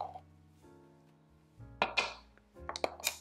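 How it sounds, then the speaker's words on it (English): Dry cake ingredients, including baking soda and baking powder, are stirred in a bowl for a vegan thin mint cake, giving a few bursts of clinking and scraping against the bowl after a quiet start, close and moderately loud. "Okay, so we're just gonna stir those up."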